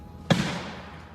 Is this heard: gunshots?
yes